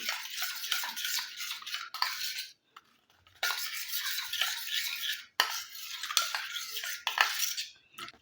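A spoon stirring a coffee and sugar mixture in a small bowl, a close, bright scraping and clinking in quick bursts with a brief pause partway through, no talking.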